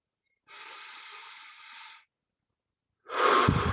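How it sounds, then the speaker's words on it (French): Two long exhalations out through the mouth during guided meditation. The first is a soft, airy breath of about a second and a half. After a short silence comes a louder, closer breath. "j'expire par la bouche."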